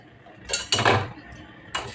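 Mung dal being stirred and fried in a pan makes scraping, rattling bursts of utensil against metal, two close together and another near the end, fairly close and loud.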